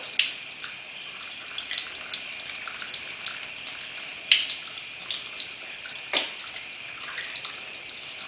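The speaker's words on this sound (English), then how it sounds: "I found this really cleans my brushes using a bar of soap." Makeup brushes being washed with a bar of soap under running tap water, a steady hiss of flowing water with soft splashes and rubbing throughout, close and moderately loud, with no talking.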